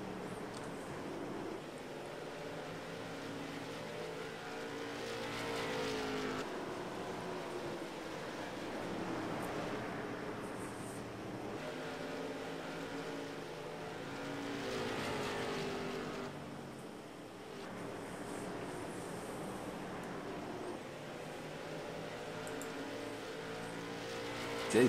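Late model race cars roar around a track in a continuous loud engine drone that swells and fades as the pack passes, with distant crowd ambience and no clear speech.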